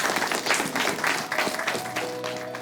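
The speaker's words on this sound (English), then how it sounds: "So can we give them a clap?" An audience clapping in thanks for people helping koala conservation, a brief burst of mixed hand claps that thins out, with a faint sustained tone near the end.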